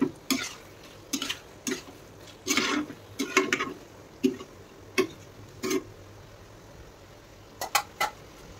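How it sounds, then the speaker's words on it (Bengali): Curry with coriander leaves is stirred and sautéed in a pan, giving bursts of scraping and clattering between gentle sizzling, close and moderately loud, with pauses between strokes. "এটাকে এবার কষাতে হবে খুব সুন্দর করে।"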